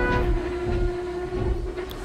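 Henry, a steam engine, pulls into a station with a steady rumbling roll and a sustained whistle-like tone, ending in a faint high squeal.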